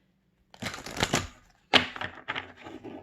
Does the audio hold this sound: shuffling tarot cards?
yes